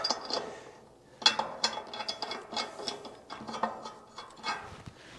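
A hand ratchet tightens bolts on a custom hitch plate for a Chevy COE truck, giving a close series of rapid metallic clicks in uneven bursts with brief pauses.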